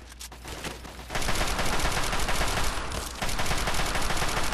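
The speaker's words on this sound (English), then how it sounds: "Ah, taking suppressive fire!" Sustained automatic gunfire from raiders in the Fallout 3 video game, loud and dense, starting after a brief quieter moment and continuing almost without pause to the end.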